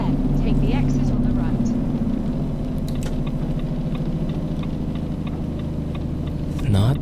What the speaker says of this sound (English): Let's hear the engine brake